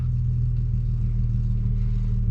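A custom car engine holds a steady, deep rumbling tone close by, with a smooth even throb and no voices.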